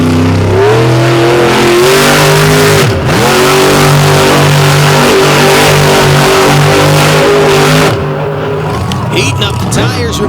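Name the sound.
monster truck engine revving, heating up tires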